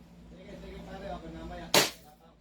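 A KP-16 gun fires a single sharp, loud crack, preceded by quiet voices talking nearby before the shot.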